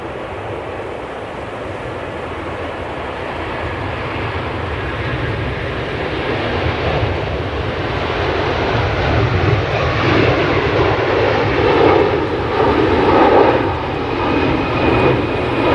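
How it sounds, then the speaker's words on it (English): A Virgin airliner rolling for takeoff at Manchester Airport builds a loud, broad jet roar that swells and rumbles steadily as it accelerates, alone without voices. "we've got the Virgin, and it's rolling now"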